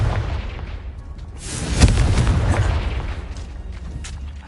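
Confringo blasting spell going off in Hogwarts Legacy, a single loud, deep booming explosion that swells in and then rumbles away over several seconds, with no voices.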